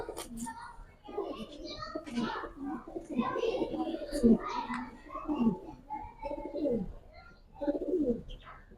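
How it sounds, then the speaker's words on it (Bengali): Giribaz pigeons coo in soft, repeated throaty rolls at close range, overlapping with people talking nearby throughout. "খুব ভালো সার্কেলের কবুতর"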